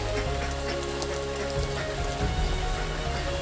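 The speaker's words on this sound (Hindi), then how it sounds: "आज बारिश हो रहा है और बहुत ज़्यादा बारिश है आज" Heavy monsoon-style rain in Tripura, India pours down in a dense, continuous hiss, close and steady, with a low rumble underneath.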